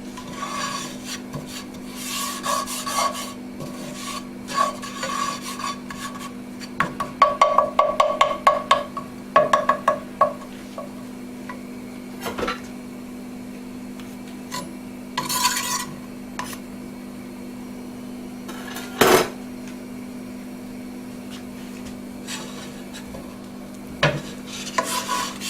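Top sirloin beef steak browning in a pan, a steady close sizzle under a constant hum, broken by intermittent scraping and rubbing as the meat is moved about.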